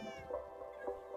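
Several cats meow in Minecraft, a few short tonal mews in quick succession, close and clear with no talking.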